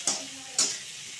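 Lentil fritters frying in a pan are stirred in two quick scraping strokes over a soft, steady sizzle, close and fairly quiet.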